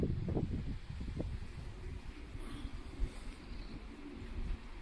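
Soft cooing of racing pigeons in a loft and low murmuring close by, with faint rustling and breezy background noise throughout.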